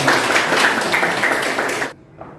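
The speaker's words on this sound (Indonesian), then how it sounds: "tepuk tangan dong buat Mas Arja" Applause for a man named Arja, a dense burst of many hands clapping at once that holds steady for about two seconds, then cuts off abruptly, leaving a faint murmur.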